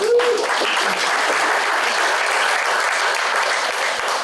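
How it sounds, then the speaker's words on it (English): Steady applause from an audience at an apartment building ribbon cutting ceremony, dense broadband clapping sustained at full strength throughout with a brief voice at the very start. "So I want to give you a huge round of applause."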